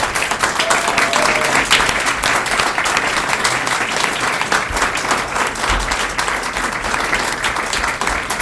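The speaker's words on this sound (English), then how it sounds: "Again, another round of applause." Loud, sustained applause from an audience at a board of education meeting during student recognition, thick continuous clapping filling the whole stretch without a break.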